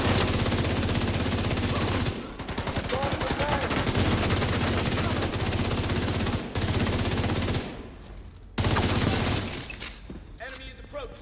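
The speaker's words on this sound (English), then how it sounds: "That firing." Video game combat with sustained gunfire, a dense continuous rattle of automatic shots with brief drops in between, loud and close, with talk underneath.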